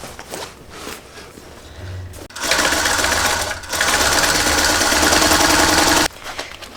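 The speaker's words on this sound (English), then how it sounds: "I'm going to sew this at 1/4 of an inch seam allowance" A sewing machine stitches a quarter-inch seam, with a short burst followed by a longer continuous whir of stitching nearby. Quieter handling sounds come before and after it, and no one speaks.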